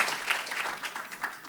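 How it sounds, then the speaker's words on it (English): A brief burst of audience applause fills a congressional forum event, many hands clapping together in a steady, moderately loud patter. "and Maddie, let's give them a round of applause."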